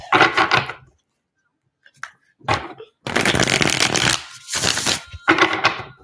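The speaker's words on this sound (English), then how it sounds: "One more shuffle." Tarot cards being shuffled in several quick riffling bursts, close and crisp, separated by short pauses of near silence.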